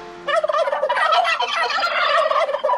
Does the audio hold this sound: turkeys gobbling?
yes